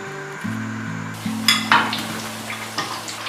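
Eel pieces drop into hot oil in a wok, setting off a sudden close sizzle with clinks of utensils against the pan over a low steady hum.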